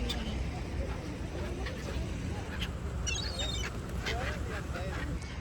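Many ducks quacking among other birds in Stockholm, a dense continuous chatter of calls fairly close, with people talking over it.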